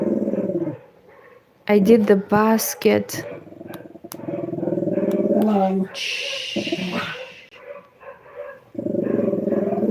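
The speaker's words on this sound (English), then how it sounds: "my neighbors with their home dogs went for a walk, and then they meet and they start barking and they fight" Neighbours' pet dogs meeting on a walk and fighting, with sharp barks and growls breaking out mid-clip amid steady background hum, while a person talks nearby.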